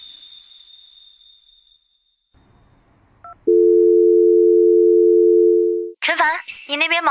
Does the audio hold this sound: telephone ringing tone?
yes